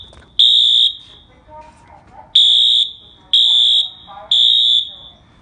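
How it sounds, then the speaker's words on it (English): Fire alarm blaring in loud, sustained high-pitched bursts, four times with short gaps between, while people talk and react over it. "Oh shit, it's a fire alarm, bro."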